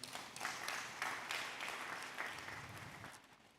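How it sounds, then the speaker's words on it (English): An audience at a conference event applauds, with irregular bursts of claps rising and falling before tapering off over a few seconds. "So let's clap for Reverend one more time."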